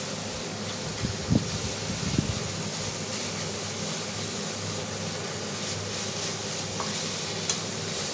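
Pork pieces sizzling and being stirred in a hot pan while fried rice is prepared, a steady broadband frying hiss with a few louder scraping stirs near the start, continuous and close, with no talking.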